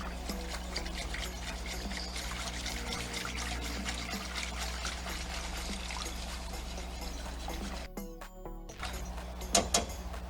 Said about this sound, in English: now we're going to add our beef broth